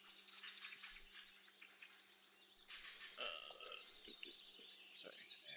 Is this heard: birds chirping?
yes